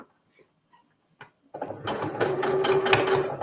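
A sewing machine runs steadily, stitching elastic for a visor tissue holder after a few faint taps of quiet handling; the motor whir starts abruptly and stays loud and continuous.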